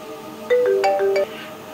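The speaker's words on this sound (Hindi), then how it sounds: "ये देखिए ललन का फोन आ गया" A phone ringtone plays a short electronic melody of several bright tones for under a second, loud and close, with room noise around it and no talk over it.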